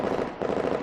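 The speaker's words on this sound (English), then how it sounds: "the crisp sound of gunshots erupt from behind me" Gunshots in the video game Neural Cloud crackle in a rapid, dense burst of sharp reports close by, packed into a single loud volley.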